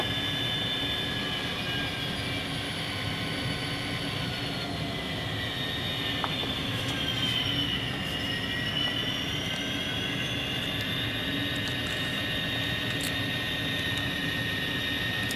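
A Proto 2000 SD60M model locomotive in BNSF 9249 livery, fitted with a Tsunami sound decoder, gives off a steady diesel engine drone with a high whine, unbroken and fairly loud.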